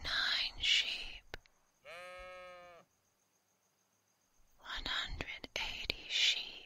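A single drawn-out sheep bleat, clear and tonal, rises alone in a quiet gap between stretches of close, soft whispering.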